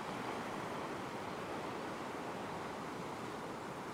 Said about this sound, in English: Just going to see how these waves impact this particular spot while I'm standing here.